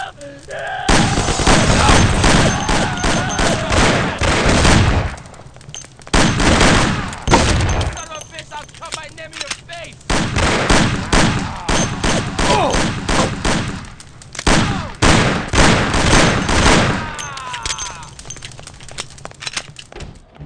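Gunfire in the Mafia: The City of Lost Heaven video game, with dense bursts of shots and volleys coming in loud waves separated by brief lulls, carrying on for about twenty seconds.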